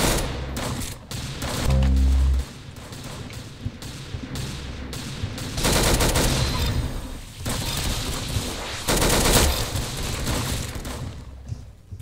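Rapid gunfire bursts and booming shots from the Roblox Arsenal shooter game, loud and repeated in clusters with brief gaps between volleys.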